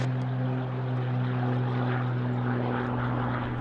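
An Extra 300L aerobatic plane takes off with a loud, steady propeller engine drone and strong sustained harmonic tones, close and continuous throughout.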